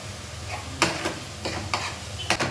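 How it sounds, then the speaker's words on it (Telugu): Tomato paste with turmeric, salt and chilli frying in a pan for carrot rice, a constant close sizzle broken by several sharp scraping stirs of a spoon against the pan, with no talking. "ఈ టమాటా పేస్ట్ ఇది వేగింది కదా"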